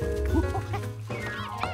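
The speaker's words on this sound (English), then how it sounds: "A cow." A cartoon cow lets out a short, bleating moo that sits among other animated sound effects during a playful backyard game, fairly quiet and brief.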